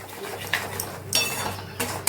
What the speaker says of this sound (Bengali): আমি নুন, হলুদ এবং চিনি এবং কাশ্মীরি মির্চের গুঁড়ো দিয়ে দিলাম এবং পুরো মিশ্রণটা কষাবো।